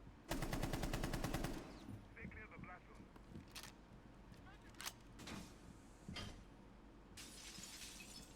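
Rapid automatic gunfire from a competitive tactical shooter match, a dense burst of shots with glassy shattering at the start, followed by scattered single shots and clatter with a voice talking over the action.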